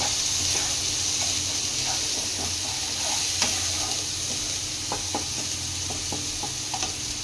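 Tengra fish curry with potato, cauliflower and spices is being sautéed in a pan, a soft steady sizzle and hiss under a series of light, irregular ladle taps and scrapes.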